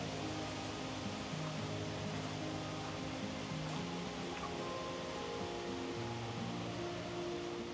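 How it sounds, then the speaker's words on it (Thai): Steady broadband rush of the Dai Chong Thong waterfall in Sangkhla Buri, a continuous even roar of falling water heard throughout with no voices. "เมื่อเราเดินมาเนี่ยเราก็จะได้ยินเสียงน้ำตก"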